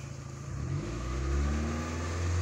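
A Peugeot 206 engine revs up, its steady mid-pitched hum rising and holding at higher speed, close and fairly loud with no voices.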